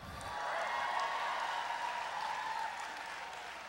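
A campus audience at a senior oration breaks into applause, a steady wash of clapping that swells quickly and holds for several seconds before tapering slightly.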